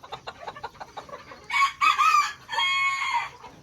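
Polish bantam chickens cluck in quick soft bursts inside a pen, then a rooster lets out loud, close crowing calls over them.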